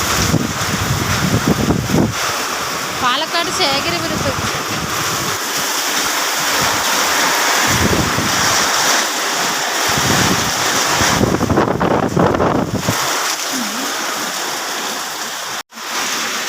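Strong wind gusts sweep through Sekharapuram in Palakkad during a severe windstorm, roaring loudly and continuously with surging, buffeting bursts that batter the microphone for the whole stretch.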